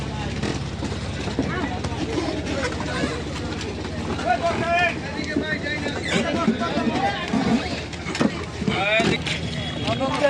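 A boat moving along a river with a steady engine and water rumble, while several people talk and chatter nearby over it.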